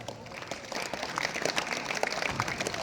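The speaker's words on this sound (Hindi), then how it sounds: "बच्चों के लिए जोरदार तालियां।" A crowd at a youth gram sabha gives steady, dense applause for the Navodaya students' performance, many hands clapping continuously at moderate distance.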